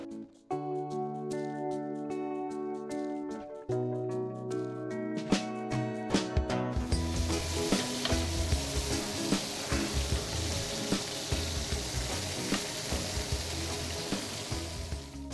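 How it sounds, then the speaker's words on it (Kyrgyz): Chopped ingredients frying in a pan, a steady loud sizzle that fills most of the clip with scattered stirring clinks, following an opening of melodic tones with no talking. "Эми бунун баардыгын куруйбуз азыр."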